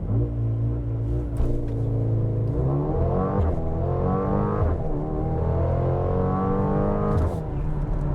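A 2021 Mercedes-AMG GLB 35 crossover launches hard using launch control. The engine note climbs in pitch through several rising sweeps, with brief dips at each gear shift, heard steadily from inside the cabin.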